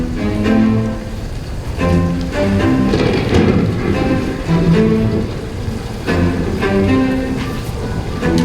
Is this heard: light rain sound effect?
yes